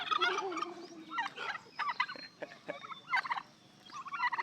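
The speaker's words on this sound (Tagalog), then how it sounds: "Ayun, pabo." A turkey gobbles in repeated rattling bursts, close and fairly loud, with short pauses between calls.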